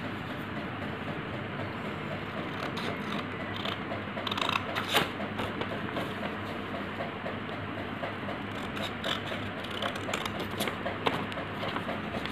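Scissors snip the corners off a sheet of paper for a children's pinwheel craft, a handful of quiet, separate cuts heard close up over a faint background hum.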